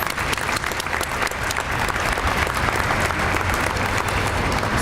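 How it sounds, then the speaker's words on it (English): Sustained, dense applause from an audience at a Human Rights Campaign press conference in Pittsburgh, steady and fairly loud throughout with no break. "So let's give everyone a round of applause."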